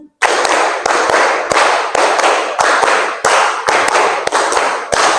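A class claps in a steady counted rhythm during an Islamic religious education lesson: loud, close group clapping with evenly spaced sharp accents repeating for several seconds, with no voices.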